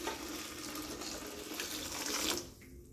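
Hot water pours steadily over dried calendula, rosebuds and lavender in a container for an herbal steam, a continuous close splashing rush that cuts off near the end.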